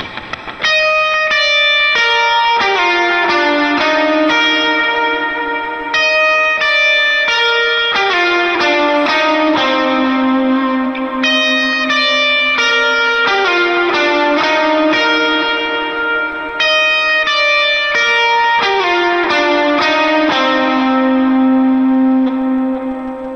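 Lead electric guitar with distortion, chorus, echo and reverb plays a bridge in a steady flowing melodic line, loud and continuous, with no voices.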